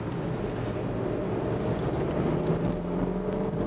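A BMW F31 320d xDrive diesel estate accelerates hard on a test drive, its engine a steady, loud, continuous drone heard from inside the cabin, with road and wind rush throughout.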